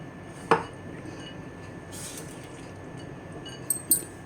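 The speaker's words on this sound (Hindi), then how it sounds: "अब इसमें साबूदाने वाला मिक्स डाल देंगे। तो ये हमने इसको अच्छे से डाल दिया है और अच्छे से चला देंगे" A spoon scraping and clinking against a pan while sabudana khichdi mixture is stirred, a few sharp metallic knocks separated by quiet stretches of soft shuffling, no voices.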